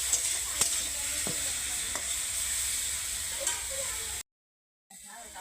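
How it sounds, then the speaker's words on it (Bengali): Rui fish curry with raw tamarind being fried and stirred in mustard oil in a pan, a steady close sizzle with a few soft spoon scrapes, then a brief cut to silence before the frying hiss returns. "দেখো অল্প একটু আমি কিন্তু সরিষা তেল দিয়ে দিচ্ছি, দিয়ে আমি কষতে দিয়ে দেবো"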